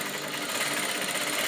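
A sewing machine stitching elastic onto a swimsuit, a fast, steady motor whir with rapid needle chatter, close and moderately quiet, running without pause.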